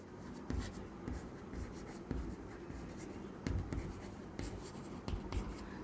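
A pen scratches across paper while writing out a geometry proof by hand, producing soft, close, irregular strokes and small taps with light rustling in between.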